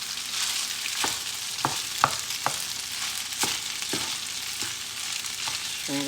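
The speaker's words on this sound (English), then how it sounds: "And then we stir this whole thing up." Orzo bean salad being stirred in a bowl, with a string of soft, scattered clinks and scrapes over a steady hiss.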